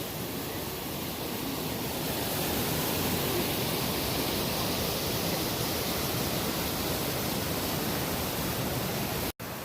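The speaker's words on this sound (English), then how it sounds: "this is Skinny Dip Falls" Skinny Dip Falls, a mountain waterfall on a cold stream, roars in a dense, constant wash of rushing water, loud and even from start to finish, with no talking.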